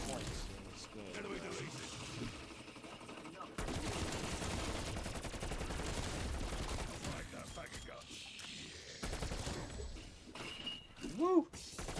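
Sustained automatic gunfire in a zombie-survival video game pours out in a dense, rattling stream for several seconds, with quieter stretches, game effects and players talking over it.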